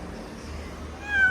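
A long-haired, silver Siberian cat lets out a single short meow near the end, rising clearly over quiet indoor room tone.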